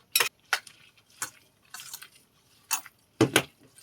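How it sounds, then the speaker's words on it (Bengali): Fish roe batter with gram flour being mixed by hand in a bowl, heard as close, sporadic wet squishes and light clicks against the dish in short separate bursts. "এটা ভালো করে মাখিয়ে নেব।"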